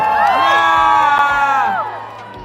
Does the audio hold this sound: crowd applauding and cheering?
yes